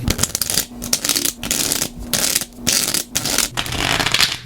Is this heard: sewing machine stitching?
no